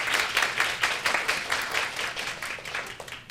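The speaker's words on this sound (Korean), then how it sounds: "한 박수로 환영을 해주시겠습니다." Audience applause at a Korean forum on family diversity, greeting the Australian ambassador to Korea, a steady patter of many hands heard at moderate distance and without speech.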